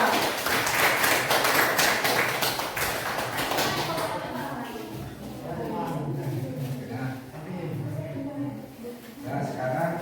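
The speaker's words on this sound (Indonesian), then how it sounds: "kan sudah kasih aplaus untuk kelompok 4" Students in a classroom applaud a presenting group, a loud burst of clapping at first that fades over several seconds into chatter and voices.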